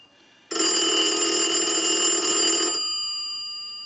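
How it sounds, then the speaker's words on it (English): Bell of a Northern Electric 233 payphone rings loudly in one sustained ring cycle sent from a line analyzer, a dense metallic clatter lasting about two seconds before cutting off into a fading hum. "we'll go ahead and send a ring cycle"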